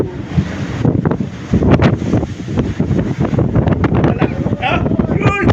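Large ocean waves surge and crash under strong wind buffeting the microphone, a loud continuous roar with rising swells, while people talk excitedly over it.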